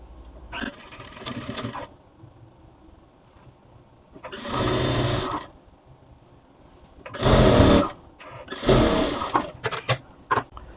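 A sewing machine runs a pressed seam on blouse fabric in four distinct bursts of close mechanical whirring, each a second or so long, separated by quiet gaps.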